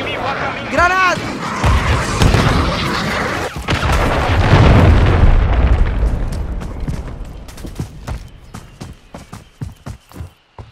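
A grenade blast in Call of Duty: Modern Warfare III, a heavy low boom swelling out of dense battle noise with gunfire and a spoken shout, followed by sharp clicks and quieter thuds as it fades.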